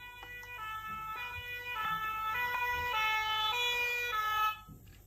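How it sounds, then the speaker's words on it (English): A cartoon fire engine siren wails in a repeating two-tone pattern over a low vehicle rumble, rising slightly and cutting off near the end. "But what's that noise?"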